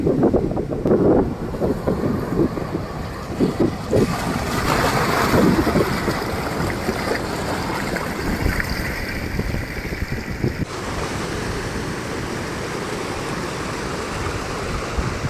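Rough sea surge floods the coast around a church in Nayarambalam during a sea storm, a steady loud roar of crashing waves and swirling water mixed with strong wind buffeting the microphone, with no voices.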